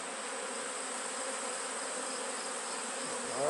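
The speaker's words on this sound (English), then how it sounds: "A lot of bees." A swarm of honey bees fills the air with a dense, continuous buzzing hum, close and steady, with no voices over it.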